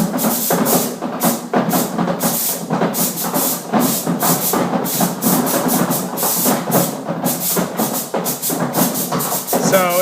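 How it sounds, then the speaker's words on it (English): Pneumatic valves fire in rapid, steady succession and balls drop in a ball drop project, a dense run of hissing bursts and clatter lasting throughout, loud and close, with faint voices underneath. "in the background you'll be able to hear the ball or the valves go off and hear the balls fall"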